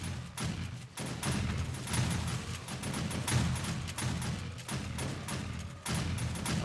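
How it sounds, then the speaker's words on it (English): Automated turrets in the 7 Days to Die zombie game fire continuously at zombies during a horde night, a dense rapid rattle of gunfire that runs through the whole stretch with brief dips, loud and close. "the cops sit there and get pelted by the turrets"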